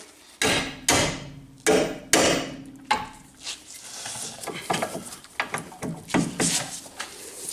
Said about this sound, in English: Give her a couple taps from underneath, get those bolts out.